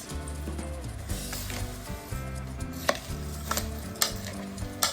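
A bhel snack mix with coriander-cumin powder and amchur being stirred and tossed, with steady scraping and rustling and a few sharper knocks against the bowl, close and fairly loud, with no talking.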